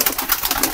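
Kalmua breed pigeons coo softly in a loft kept for old pigeon breeds, a short burst of layered, murmuring calls close by with no talking.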